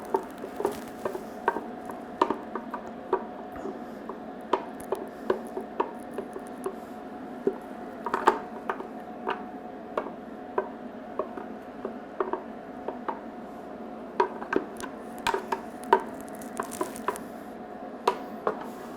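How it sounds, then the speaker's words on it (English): Blended butter chicken sauce cooking on low heat in a pan, sparse irregular pops and spits over a quiet bubbling bed, close and fairly soft, with no talking. "it'll start splatting now that it's been blended into a sauce"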